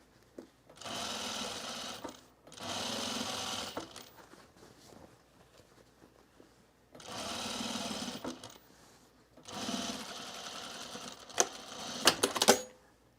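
A sewing machine stitches fabric for summer pants in four separate bursts of steady, rapid whirring, each a couple of seconds long with quiet pauses between, fairly close and without talk.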